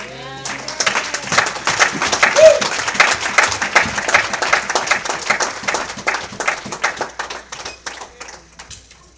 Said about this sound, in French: Let's give him a hand praise one more time.